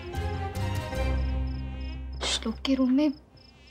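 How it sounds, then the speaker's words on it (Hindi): A thin, whining mosquito buzz hangs steadily through a bedroom at night in a Hindi TV drama scene, fairly close and continuous, with a voice speaking briefly over it near the end. "तो मच्छर सोने ही नहीं दे रहे मुझे,"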